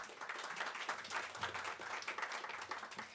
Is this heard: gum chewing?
no